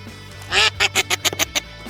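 Quacking in a children's farm-animal game: a longer first quack, then a quick run of about six short, bright quacks, close and clear with no talk over them.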